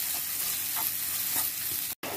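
Green pea paste stirred and cooked with masala in a pan on the stove for a Hindi-style matar sabzi: a steady sizzle with scraping stir strokes, one brief dropout near the end, no voices.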